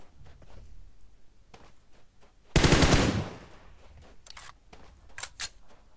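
Automatic rifle spray in PUBG Mobile, a loud sustained burst of rapid shots about half a second long, followed by softer scattered clicks and a few distant shots.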